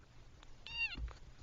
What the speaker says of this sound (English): Oh, already with the meow.